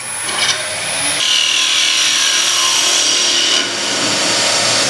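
A wood lathe tool trims the face of a turned wooden lid, a steady close scraping and whirring hiss that starts lighter, then thickens into a constant loud cutting rasp with a faint high whine from the spinning work.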